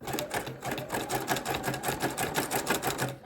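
A sewing machine runs steadily, stitching through fabric-wrapped rope for a trivet, its needle chattering in a fast, even rhythm that stays close and loud with no talk.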